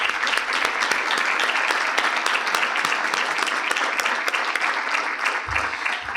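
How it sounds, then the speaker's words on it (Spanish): An audience claps for the speakers of a conference panel on space exploration and resource use, a dense, steady burst of applause from many hands that carries on for several seconds with no talking. "Les vamos a dar un aplauso a los expositores de este primer bloque."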